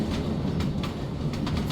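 A train rolls along the rails with a steady low rumble and faint rhythmic clicks of wheels over joints, heard from inside at a moderate level.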